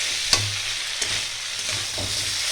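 Ginger and cumin paste sautéing in a pan, a steady close sizzle with a few sharp scrapes of a spatula stirring through it, no voices.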